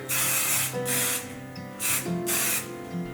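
Four short bursts of Pantene hairspray hiss out close by, each lasting about half a second with brief pauses between them, over faint background music.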